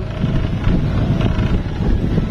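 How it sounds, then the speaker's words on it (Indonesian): Strong wind gusting across the microphone on the slope of Mount Penanggungan during a bicycle ride uphill, a loud continuous roar with rises and dips and no speech. "Angin yang gewebes ini."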